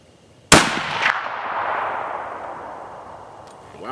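A single sharp rifle shot from a Savage 11 VT with a Bushnell scope at a shooting range, loud and close, followed by a long fading echo rolling across the open range.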